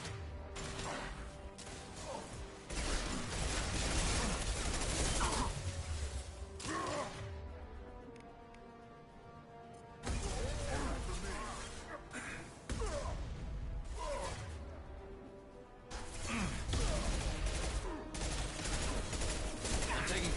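Gunfire in the Mass Effect 2 video game, dense bursts of loud shots and impacts in long stretches, with brief lulls between them and voices mixed in.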